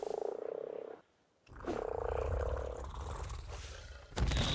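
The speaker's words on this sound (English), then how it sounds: "Frog." A frog croaks in the survival game ARK, with a sustained, low, throaty call that breaks off briefly, then resumes and grows heavier, ending in a louder thud. The sound is close and moderately loud.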